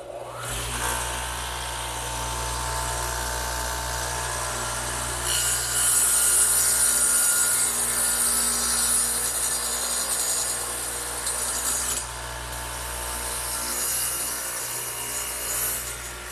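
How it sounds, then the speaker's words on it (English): A radial arm saw fitted with a dado head cuts a shallow recess into a vertical wooden trestle table piece, a steady grinding, rasping roar with a brighter scraping stretch midway, sustained close and loud with no talking. "I'm going to do that to this piece right here over on the radial arm saw, which again has the dado head in it"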